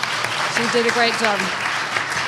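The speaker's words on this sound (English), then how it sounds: "I think that is actually worth a round of applause." Audience at a Hudson Highlands Land Trust fundraising event claps in a steady wash of applause while a speaker keeps talking over it.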